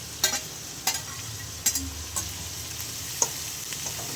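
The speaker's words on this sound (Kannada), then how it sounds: "ಈರುಳ್ಳಿ ಸ್ವಲ್ಪ ಮತ್ತು ಹಸಿಮೆಣಸಿನ್ಕಾಯಿ ಹಾಕ್ತಾಯಿದ್ದೀನಿ. ಇದಿಷ್ಟು ಫ್ರೈ ಆಗೋವರೆಗೂ" Onion and green chilli frying in a pan, a steady soft sizzle with several sharp stirring clinks and scrapes spaced through it, close by and with no talking.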